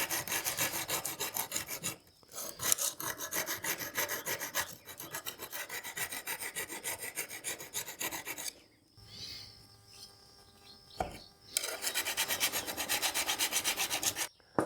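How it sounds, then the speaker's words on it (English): A small diamond sharpener rasps along the edge of a Japanese gardening tool in steady back-and-forth strokes, close and dry, coming in long bursts separated by brief pauses. "I do have a little diamond sharpener, and that's what I need to use to actually get the edge sharpened here"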